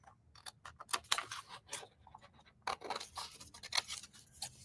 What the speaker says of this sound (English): So let me just cut one of these out.